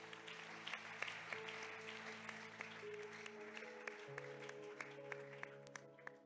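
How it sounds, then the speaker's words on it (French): A church congregation claps and cheers at a prophetic service, scattered sharp claps over a sustained musical drone with held organ-like tones, fairly faint and distant. "Acclame très fort si tu es prêt"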